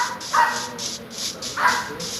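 A dog in the Minecraft video game barks twice, two short bright yelps about a second apart over a steady background hum of game ambience.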